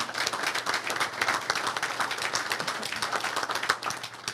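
An audience claps steadily for the assistant coaches at a university football recruiting class event, a moderate, sustained round of applause with no talk over it.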